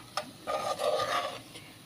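Flour and black pepper are stirred in a hot pan: a short scrape, then a spoon sweeping through the softly sizzling mixture for about a second, close and fairly quiet.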